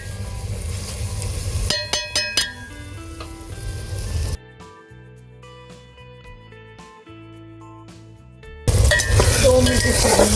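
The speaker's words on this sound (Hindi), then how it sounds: "दो मिनट इसे भूनना है हमें।" Tomatoes frying in a pan for a karela gosht (bitter gourd and mutton) curry, with a steady sizzle broken by sharp clinks and scrapes of a spoon stirring against the pan, close and fairly loud; a quieter stretch in the middle.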